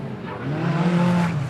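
Stock cars racing on a Border Stockcars oval track, a loud sustained engine drone that rises in pitch and holds steady, continuous with no pauses.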